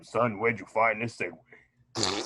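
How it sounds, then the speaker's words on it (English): A brief, loud fart sound effect bursts out at the end, right after someone speaks casually in a podcast setting. "Was that a fart sound?"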